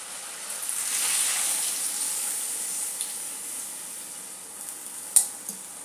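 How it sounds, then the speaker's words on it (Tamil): Tamarind water hits masala frying in hot oil for a fish kulambu, giving a close hiss that swells and then eases. A sharp utensil clink cuts in near the end. "கரைச்ச புளியை ஒன்றா சேர்த்துக்கலாம்."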